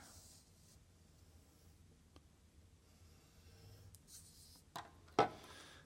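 Compass point and pencil tracing arcs on paper for a geometry construction, a faint, quiet scratching at first, then two sharper, brief strokes near the end, close and with no voices.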